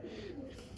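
Rampuri pigeons coo at a pigeon market in Shahdara, Lahore, a soft low murmur running steadily under faint background noise with no clear voices.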